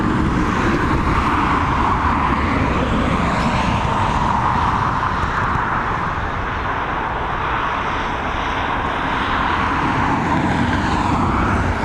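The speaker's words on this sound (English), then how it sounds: "FR1455 coming in from Milan, another Boeing 737, Ryanair liveried, operated by a Malta Air crew." A Ryanair-liveried Boeing 737 flown by a Malta Air crew lands at Dublin Airport after a flight from Milan, its engines giving a continuous broad roar that swells and eases slightly over several seconds.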